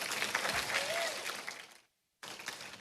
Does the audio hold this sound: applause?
yes